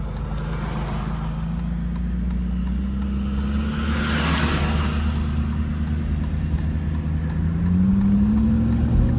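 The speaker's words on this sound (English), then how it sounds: "So we got a really nice idle now." Steady engine drone of a 1991 Mercedes 500SL with its 5.0 V8, a loud, continuous low hum whose pitch shifts slightly and climbs near the end, with no voices over it.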